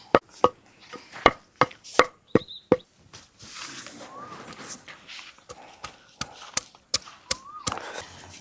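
Ingredients for chicken pakodi being pounded by hand, sharp close thuds in quick irregular bursts with a short pause midway, and voices talking briefly in between.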